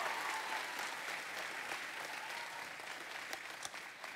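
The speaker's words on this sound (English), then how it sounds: "round of applause for her" Audience applause fills a school musical theatre for the choreographer, a dense steady wash of many clapping hands with a few scattered whoops, holding evenly throughout.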